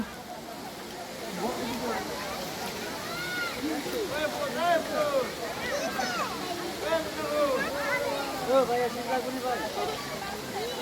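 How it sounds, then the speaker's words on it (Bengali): Mayabi waterfall at Jaflong in Sylhet gives a steady rushing wash of falling water in the background while people talk continuously over it. "এই সেই মায়াবী ঝর্ণা"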